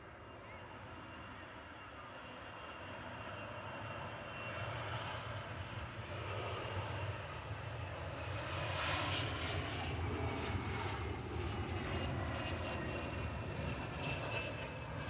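A Loganair ERJ 145 regional jet arriving at Manchester Airport swells from a distant whine into a louder, closer jet roar with a high-pitched turbine tone that holds steady toward the end.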